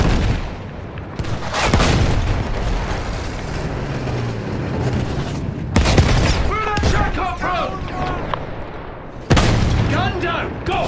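Field gun and battlefield gunfire in the video game Battlefield 1, loud booming blasts and crackling shots layered over continuous rumbling combat noise, with shouted voices in the mix.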